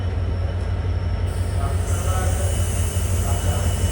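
An Indian-built locomotive sits at a Sri Lankan railway station on the Colombo–Galle coastal line, giving off a loud steady low diesel rumble with a faint high whine above it and some voices in the background.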